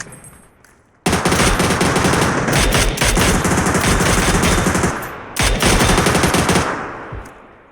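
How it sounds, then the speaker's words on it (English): Sustained automatic gunfire from the video game PUBG in a ranked squad match rattles loudly after a quiet start, briefly breaks near the middle, then resumes before fading out. "Pinpoint accuracy to shoot the prone player through smoke."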